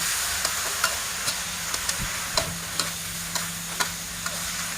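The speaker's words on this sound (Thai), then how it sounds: "ผัดให้เข้ากันนะคะ" Bamboo shoots, meatballs and egg stir-fried in a pan: a soft sizzle runs underneath while a spatula clicks and scrapes against the pan in a regular rhythm roughly every half second, close and clear.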